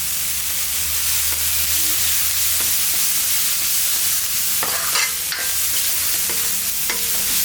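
Onions sauté in a pan for an okra masala fry, giving a steady close sizzle with repeated scraping strokes of a spatula stirring through them.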